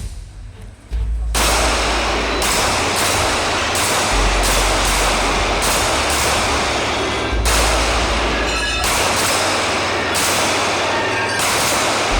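Rapid, loud gunshots crack in close succession at a shooting competition as targets are fired on, sharp bursts repeating every second or so over an outdoor background.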